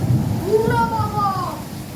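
Heavy monsoon rain pours steadily under deep rolling thunder in Thane district, India, with a brief wavering tone rising and falling over the downpour midway.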